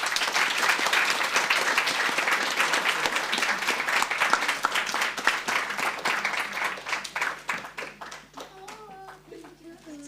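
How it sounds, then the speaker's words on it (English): A round of audience applause for two panelists at a community panel discussion, dense and sustained at first, then thinning into scattered claps as voices and a child's chatter come through near the end. "could we just give Angie and Andrew a round of applause?"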